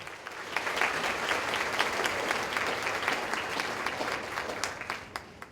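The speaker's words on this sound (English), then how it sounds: "Let's give this group a round of applause." Audience applause after a youth group's presentation at the Ohio State Fair 4-H Fashion Revue, steady dense clapping throughout with a few sharper claps standing out near the end, no talking.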